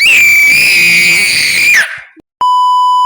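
A person lets out a loud, sustained high-pitched scream for nearly two seconds, followed after a short gap by a steady electronic beep tone, while opening cards in a Süperler Ligi football card pack.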